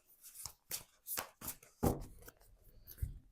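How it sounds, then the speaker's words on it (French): Tarot cards being laid out one by one on a table during a reading, producing a series of soft, brief slaps and shuffling rustles spaced irregularly across the moment, fairly close and quiet. "Je vais mettre d'abord toutes les cartes sur la table."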